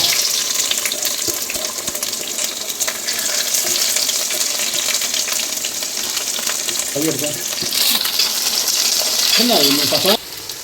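Mustard seeds frying in hot oil as the base for a fish curry, giving a steady close sizzle and crackle throughout, with a few brief clinks and a short voice near the end.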